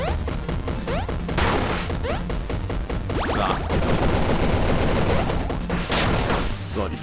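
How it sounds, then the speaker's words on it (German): Busy game shooting in Angry Video Game Nerd Adventures, a retro-style platformer: rapid electronic shots and crashing hits layered over constant game music, loud and continuous, with someone talking over it. "Dann schießen wir das mal weg."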